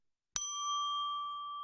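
A single bell-like ring rings out clearly and then sustains as a steady tone, a sound effect used to signal a change among game characters, alone with no talk.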